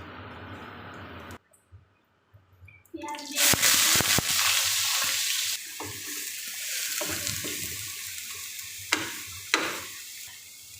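Bay leaves, dried red chillies and cumin seeds dropped into hot oil in a frying pan, a quiet start followed by a sudden loud sizzle that settles into steady frying with occasional clinks.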